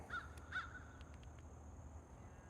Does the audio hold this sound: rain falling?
no